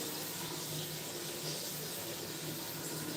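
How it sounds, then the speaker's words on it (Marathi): A steady, continuous rush of tap water fills a drinking-water jar at home. The fairly quiet, even flow runs without a break and no one speaks. "हे प्यायचं पाणी आपल्याला भरून घ्यावं लागतं"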